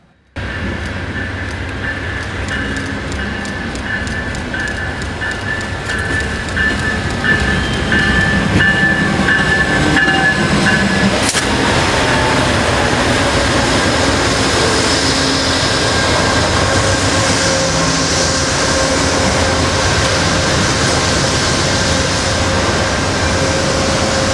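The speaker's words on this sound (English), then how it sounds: "the westbound California Zephyr would approach with unit number 203 on point." Amtrak's westbound California Zephyr passenger train rolls past in winter at Galesburg, Illinois, its loud rumble and wheel clatter rising in the first seconds and then holding steady, with a horn-like tone early on.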